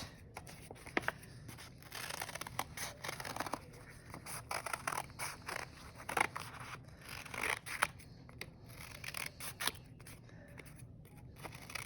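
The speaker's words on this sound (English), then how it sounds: "Hold it very tight with one hand and use the other hand to cut." Scissors snip repeatedly through paper for a Christmas ornament craft, a quick irregular series of close, crisp cuts with faint rustling between them.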